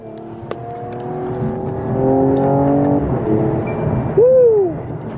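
A 2020 Mercedes-Benz CLS 53 AMG with a loud exhaust revs under paddle-shift control, its engine note climbing through several rising pulls, then a sharp blip and a swooping rev near the end, close and loud.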